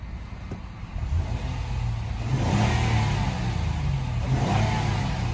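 A 2011 Honda Accord EX-L V6 engine runs steadily nearby, a low continuous hum that swells slightly as it revs, with no talking over it.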